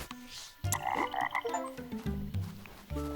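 A big frog in the video game The Plucky Squire croaks in deep, repeated, strongly tonal bursts that fill the clip close and loud, with no talk over them.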